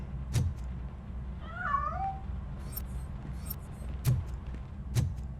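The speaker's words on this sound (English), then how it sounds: "That cat must be hiding inside." A cat hiding inside a piano in the video game RoboCop: Rogue City lets out a single wavering meow, set among a few dull thuds and soft game ambience.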